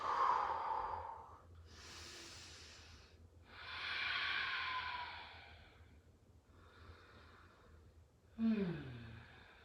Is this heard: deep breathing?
yes